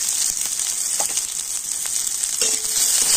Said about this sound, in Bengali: আর এখন আমি পেঁয়াজটা একটু লাল লাল করে ভেজে নেব।